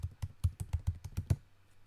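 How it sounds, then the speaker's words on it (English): Keys on a computer keyboard tapped in a quick burst of about eight clear strokes at a steady rhythm, close and fairly quiet, then silence with no talking. "we have to type three things in here"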